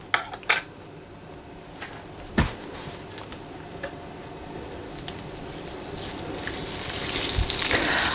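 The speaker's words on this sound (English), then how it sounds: "I'm just going to add my oil and my butter and just allow that to melt." Oil and butter melting in a hot pan for chicken and mushroom lasagne, a soft sizzle that builds into loud spitting frying, with a few sharp clinks of metal cookware early on and no talk.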